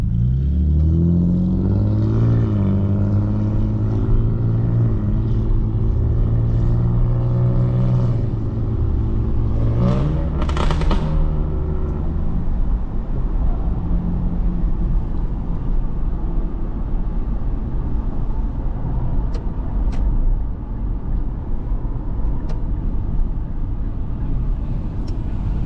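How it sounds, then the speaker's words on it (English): Lamborghini SVJ and other supercar engines in Forza roar and rev continuously, rising and falling in pitch with a deep rumble underneath, like high-performance cars accelerating. "I hear some SVJs revving over there."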